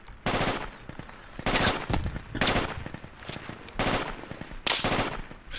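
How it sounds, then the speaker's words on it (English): Bursts of automatic gunfire in the Project Reality military shooter game, several rapid volleys in a row, loud and close, with no talking during the firing. "Whoa, taking fire, taking fire."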